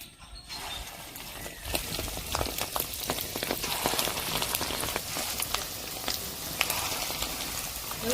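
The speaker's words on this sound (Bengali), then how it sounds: "তেল গরম হয়ে গেছে মাছের ডিমে বড়াগুলো ভেজে নেবো" Fish roe fritters fry in hot oil in a wok, producing a dense, steady, close crackle of popping bubbles like rain on a surface, continuing unbroken with no voices.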